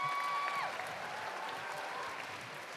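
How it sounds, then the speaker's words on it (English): Audience applause after a junior debate showcase at the World Scholar's Cup, a crowd clapping steadily at moderate distance, fairly soft, briefly overlapped at the start by a sustained tone before settling into an even wash. "can we give a round of applause for both sides"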